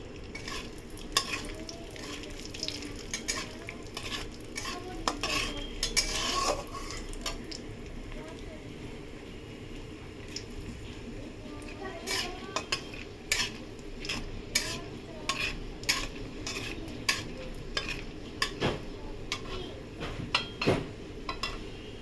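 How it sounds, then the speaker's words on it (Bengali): Whole garam masala fries in hot ghee while being stirred, a soft sizzle broken by frequent clicks and scrapes of a utensil against the pan, fairly quiet and close. "এবার আমি এর মধ্যে গোটা গরম মশলা ফোড়ন দিয়ে দেবো।"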